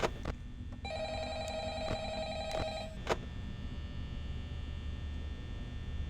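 An in-game telephone rings in Five Nights at Freddy's, a series of steady electronic ring bursts over a constant background hum, then stopping abruptly.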